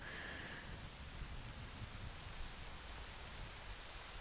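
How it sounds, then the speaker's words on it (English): Steady rain hisses evenly in a flashback scene of the video game The Legend of Zelda: Majora's Mask, a constant moderate wash of rainfall with no talking over it. "Of course, raining for that extra ambience of sadness, I guess."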